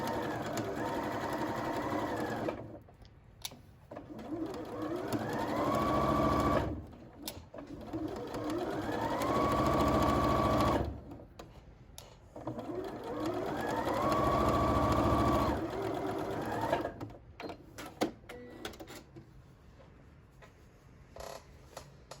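Sewing machine stitching a fabric tube for a pot plant, running in three steady whirring bursts of several seconds each with rising and falling pitch, separated by short pauses and light handling noises.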